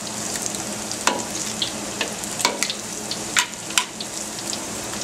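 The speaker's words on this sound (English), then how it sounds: "what I like to do is just put some oil, hot oil on top, so it'll cook a little bit faster." Egg foo young frying in hot oil in a pan, with hot oil spooned over the top: a steady close sizzle broken by sharp pops and crackles and a few louder spatters.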